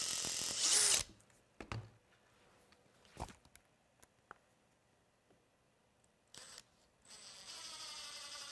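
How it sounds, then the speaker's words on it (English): A power drill bores into a metal bumper bracket, a loud burst of whirring at the start, then quiet shop ambience with brief clicks and a short second burst, ending in a steadier mechanical whine. "I am trying to drill in the center of the hole of the bracket"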